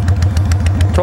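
A Honda Shadow Spirit 750 motorcycle idles close by with a steady, loping rhythm of low pulses. Its engine runs under a voice.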